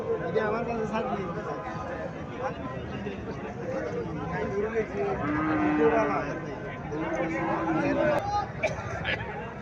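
Native cows and calves on a farm moo repeatedly, the lowing calls close and loud over a steady murmur of people talking nearby.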